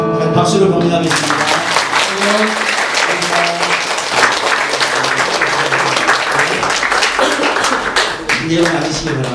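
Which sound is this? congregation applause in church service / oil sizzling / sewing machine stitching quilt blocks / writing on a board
congregation applause in church service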